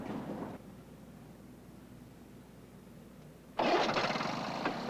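A lawn mower engine rumbles briefly, drops to a quiet lull, then fires up loudly and runs on near at hand.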